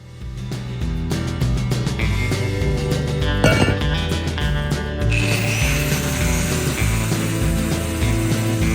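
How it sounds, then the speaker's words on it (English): Angle grinder fitted with a stripping wheel grinding leftover concrete off a steel grubbing hoe head, a loud continuous rough buzzing with rapid pulsing texture throughout. "we then move to these stripping wheels using an angle grinder"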